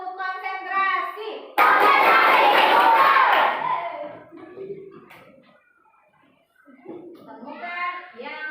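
A classroom of children repeats a rhythmic concentration clapping game, a sudden loud burst of clapping mixed with shouted chanting that fades after a few seconds, with an adult's voice before and after.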